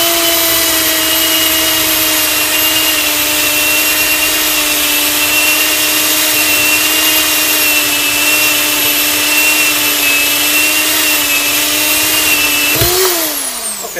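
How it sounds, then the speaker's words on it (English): Power drill boring holes through the plastic side of a tank, a loud, steady high-pitched whine held for many seconds before the motor winds down abruptly near the end. "so you'll drill holes just like this through the sides of your tank"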